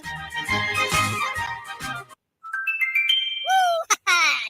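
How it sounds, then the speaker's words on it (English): A text message jingle on a Jamaican daytime sports call-in radio show plays after a burst of talk: a short run of bright electronic chime tones, then rising tonal blips, fairly loud and clean. "Text message."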